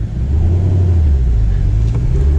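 Corvette C7 with a 7-speed manual, driven in track mode, giving off a deep, steady engine rumble as it accelerates, heard from inside the car with no talk.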